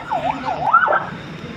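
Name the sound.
ambulance siren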